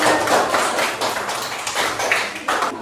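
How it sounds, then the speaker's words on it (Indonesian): Students in a classroom clap for group 4: a dense, steady patter of many hands that holds evenly throughout, fairly close and with no talking. "Beri tepuk tangan dulu biar semakin semangat."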